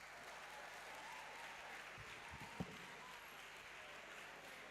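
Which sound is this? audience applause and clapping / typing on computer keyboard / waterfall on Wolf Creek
audience applause and clapping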